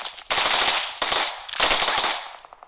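Automatic gunfire in the video game PUBG: two loud, close bursts of rapid rounds, each lasting under a second, separated by a short pause and trailing off into a faint echo.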